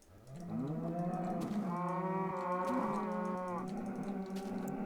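Cows mooing in Minecraft, a deep, drawn-out bovine lowing with overlapping calls, clear and close, rising and falling over several seconds with no talking.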